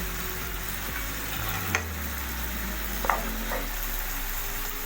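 Green chili stirred into sizzling chicken makhni handi in a pan, a steady frying hiss with a few faint scrapes of the spoon, no talking.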